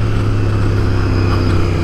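A Royal Enfield motorcycle's exhaust note thumps loud and close in a continuous, even rumble with no talking.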